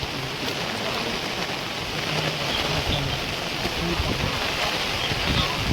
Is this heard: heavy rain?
yes